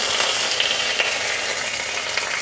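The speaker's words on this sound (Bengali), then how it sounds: "রান্নাটা সর্ষের তেলে হবে আর ফুরনে দিয়ে দেব দুটো তেজপাতা" Bay leaves fry in hot mustard oil in a pan, giving a loud, steady, close sizzle that runs without pause and has no talking over it.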